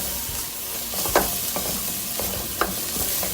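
Onions sizzle softly in a pan for a Navratan curry in a home cooking session, with a steady hiss and a few sharp scraping knocks from stirring.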